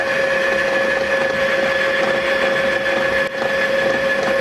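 A TV-16 lathe turning a steel shaft, with a steady machine whine and a bright sustained tone from the cut, loud and continuous, with one brief dip near the end.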